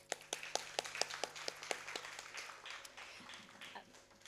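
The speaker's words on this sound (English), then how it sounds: "I would first like to say a big round of applause to all of you for coming out tonight." Audience at a dance performance clapping, with distinct individual claps in a loose rhythm early on that blur into softer, thinner applause, fairly faint and somewhat distant.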